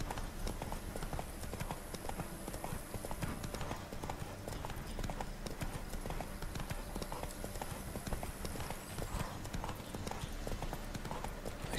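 Horse hooves clip-clop steadily in the video game The Witcher 3, a quick, even trotting rhythm that carries on throughout, moderately quiet amid game ambience, with someone talking over it.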